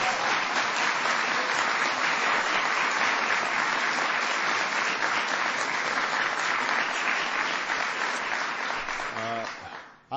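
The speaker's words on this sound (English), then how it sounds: "You can give them a round of applause for that." Loud, sustained applause from a large crowd, a dense continuous wash of clapping that tapers off abruptly at the end.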